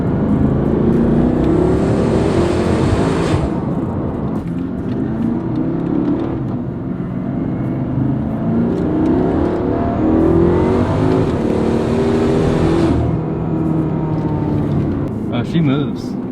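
A 700 hp BMW M5 with a full titanium Valvetronic exhaust revs loudly and steadily nearby, its engine roar rising and falling in surges throughout, with people talking over the noise.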